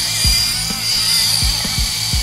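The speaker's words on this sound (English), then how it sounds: "Now you can hear that tail rotor motor going." Tail rotor motor of a Helimax Novus FP 200 RC helicopter, held by a heading-lock gyro, whining steadily through hovering flight with repeated short low thumps as the motor speed corrects.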